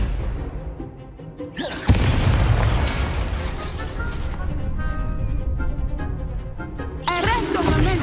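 Confringo spell explosions in the Hogwarts Legacy video game, a loud sudden boom bursting in near the two-second mark and another blast near seven seconds, with crackling game effects and a voice speaking around them.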